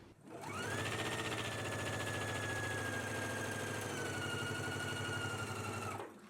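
A sewing machine stitches shoulder seams on a jumpsuit at a 5/8 inch seam allowance, running in one steady, close, whirring burst of about five seconds.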